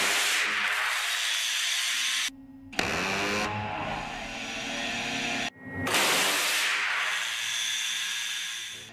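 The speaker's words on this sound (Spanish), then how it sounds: "Lo que acabas de escuchar es el rugido del M61 Vulcan, un cañón rotativo tipo Gatling calibre 20 milímetros" An M61 Vulcan 20 mm Gatling-type rotary cannon fires long, loud, continuous roaring bursts, broken by two short gaps, with no talking.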